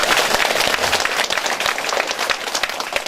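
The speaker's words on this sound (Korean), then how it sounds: "다시 한번 큰 박수 부탁드립니다." An audience applauds loudly at a lawmaker's neighborhood policy briefing in Jeonju, a dense, steady wash of clapping that carries through without a break.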